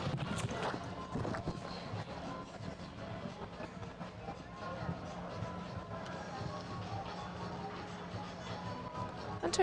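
Horse hooves drum on arena footing as a show jumper canters around a two-star grand prix course at 1.45 m, producing a steady rhythmic thudding at moderate distance for ten seconds, with faint background crowd and arena ambience.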